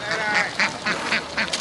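Farm ducks at a duck-breeding property in Dong Nai province, Vietnam, quack loudly and repeatedly in a rhythmic chorus, close and unbroken by speech.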